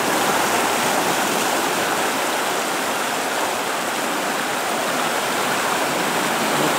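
The Razdolnaya river near the village of Pokrovka rushes steadily in a strong current, a dense, unbroken roar of flowing water close by with no voices.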